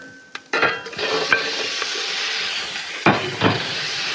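Lamb meat goes into a hot pan with pancetta and garlic for a ragù, a quick clatter followed by steady close sizzling and frying, with stirring scrapes and another clatter near the end.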